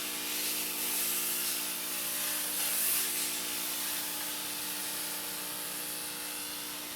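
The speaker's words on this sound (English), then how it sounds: "I just go ahead and steam directly into my skein of yarn" Clothing steamer hissing steadily as it steams directly into a skein of Shetland yarn, a continuous close, even spray of steam with a faint low hum beneath and no talking.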